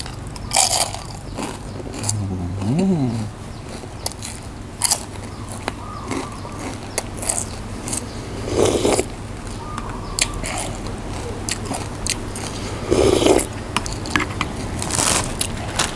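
Crispy pork rinds bitten and chewed up close, with loud crunches and scraping crackles in uneven bursts over a steady low background hum, and no clear speech.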